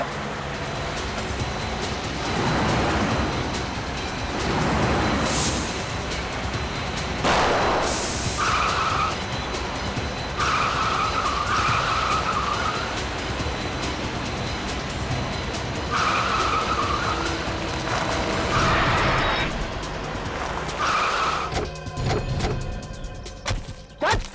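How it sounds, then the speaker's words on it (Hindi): A car speeds along during a chase, its engine roaring steadily with several loud tire skids and squeals breaking through, close and continuous with no talk. "भागा, तेज चला गाड़ी,"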